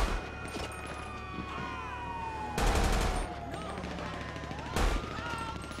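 Gunfire in the video game GTA V during a police motorcycle patrol shootout: two sharp, loud bursts stand out against steady background tones, with a voice heard at times.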